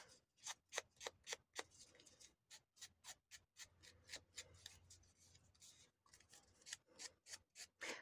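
Sanding block rubbed over paper pocket tags in papercraft work, a series of quick, close scratchy strokes in an irregular rhythm, with short pauses between bursts and no talking.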